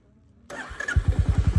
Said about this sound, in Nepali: बाइक चाहिँ स्टार्ट हुन्छ कि हुन्न हेरौँ न